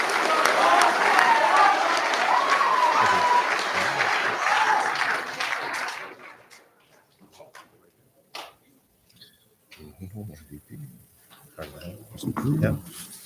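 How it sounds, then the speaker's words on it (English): Applause at a sports awards event swells with a spoken voice over it, then fades after about six seconds into near quiet with a few faint scattered sounds and a brief late burst. "Round of applause for Justin Vanderplug."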